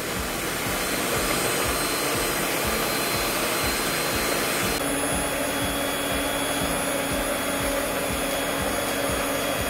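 An electric mixer beats chocolate muffin batter in a steady, loud, continuous whir with a rhythmic low pulsing as the beaters churn, without pause.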